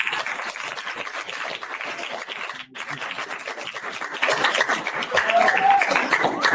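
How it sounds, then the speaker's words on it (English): An audience applauds a Pro Football Hall of Famer, a steady wash of clapping that briefly dips, then swells louder toward the end. "give a warm round of applause to Pro Football Hall of Famer, Mr. James Lofton."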